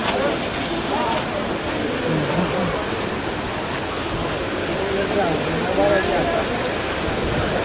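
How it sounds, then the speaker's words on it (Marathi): Heavy monsoon rain pours down at Dahanu beach in a loud, constant roar of broadband noise that never lets up. "आज खूप पाऊस आहे"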